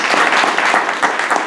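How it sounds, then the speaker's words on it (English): Audience applause for a departing District 10 councilman at a State of the District address, a steady dense clapping that stays loud and close for the whole short stretch. "If you would, just give him a round of applause."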